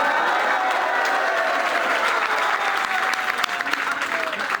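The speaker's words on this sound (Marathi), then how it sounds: "मग टाळ्या वाजवा ना" Loud, sustained applause from a crowd at a BMC workers' rally, dense clapping throughout with a voice briefly speaking over it.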